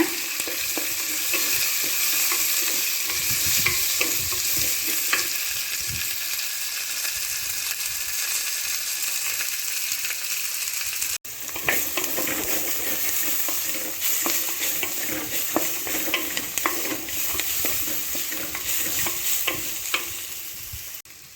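Onions sautéing in a pan for quail gravy give a steady, fairly loud frying hiss with frequent light stirring clicks. The sizzle briefly cuts out midway, then resumes more busily.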